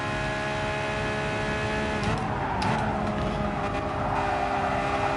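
A race car engine in a PS4 racing video game, droning steadily while running in another car's slipstream, its tone dipping as the car turns slightly right; continuous and fairly loud with no talk.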